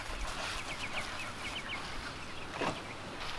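Scattered chicken clucks and squawks over steady outdoor noise, with one louder call standing out near the end.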